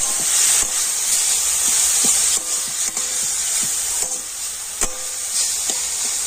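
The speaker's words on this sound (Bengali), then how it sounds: "আর এখন আমি নারকেলের আখের গুড়টা নাড়াচাড়া করে একটা পুর তৈরি করে নেব।" Grated coconut and sugarcane jaggery with a little water being stirred in a pan for a chomchom pitha filling, a constant hissing sizzle with repeated spatula scrapes and taps, close and alone.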